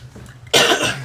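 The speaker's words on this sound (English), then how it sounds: "I had to cough" A single sharp, close cough bursts out after a brief quiet moment, then trails off.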